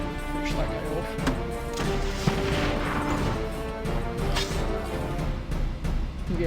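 Mortar unit firing in the strategy game Battle Nations, a series of heavy thuds and crashing impacts over background game music, moderately loud and fairly evenly spaced.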